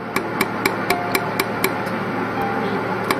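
Jewelry laser welding machine working along a seam, firing sharp evenly spaced ticks about four per second, close and crisp over a faint steady hum with no talk.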